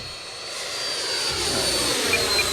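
Freewing F-16 90mm electric ducted-fan RC jet flying just after a sketchy takeoff over trees, a steady loud high-pitched whooshing whine that holds and slightly swells throughout, with no talk.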